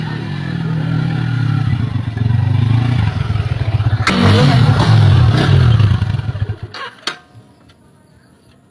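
An old motorcycle engine runs close by, chugging and revving with a rattling clatter for several seconds before cutting off. A couple of sharp knocks follow in the quieter tail.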